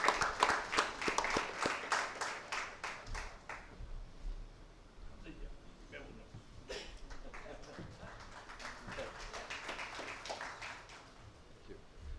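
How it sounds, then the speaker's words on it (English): Scattered audience clapping for a panelist at a money and markets panel discussion, fairly faint and uneven, swelling and thinning in bursts while people talk in the background. "A round of applause for Vivek."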